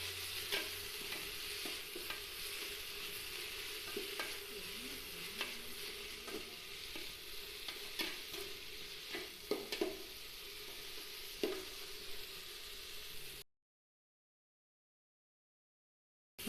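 Kumutti keerai greens sizzle steadily in a hot pan while being stirred, with soft scraping knocks of the spoon scattered throughout, before the sound cuts off abruptly near the end.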